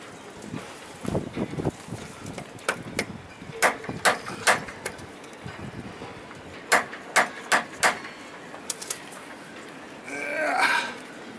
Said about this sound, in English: The impact driver gives it, it's like an impact wrench, gives it turn force when I hit it